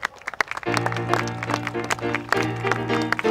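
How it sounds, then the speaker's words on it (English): Spectators applaud a rider after a 2014 race between early steam and kerosene machines, a crowd's scattered clapping running under a sustained tonal voice or music bed. "Big round of applause."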